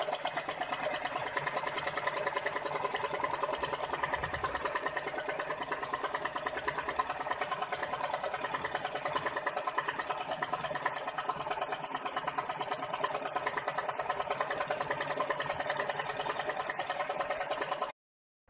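A sewing machine stitches golden fabric to its lining, running steadily in a continuous, even whirring chatter for nearly eighteen seconds before stopping abruptly, close and alone without speech.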